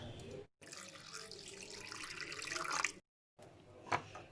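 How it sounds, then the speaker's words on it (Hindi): Water runs and splashes into a bowl of crushed garlic in two short pours separated by brief silences, close and fairly quiet. "इसके अंदर मैं तकरीबन पानी ऐड करूँगी हाफ कप तक"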